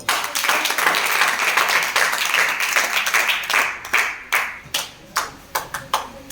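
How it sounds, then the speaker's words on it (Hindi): A classroom of students clapping together, loud and dense at first, then thinning into scattered individual claps before fading out. "बहुत अच्छा, ताली बजा दो।"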